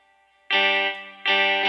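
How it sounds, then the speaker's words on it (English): Clean electric guitar sound-font playback in MuseScore gives two bright strummed chords, each struck sharply and ringing, sounding clear and close with no voices. "Now I have clean electric guitar happening on here"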